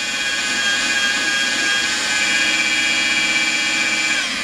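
A polisher pad spins at about 1,500 RPM to fling lint off while detailing a 1972 Ferrari, giving a continuous high whine with steady motor drone, close and loud throughout.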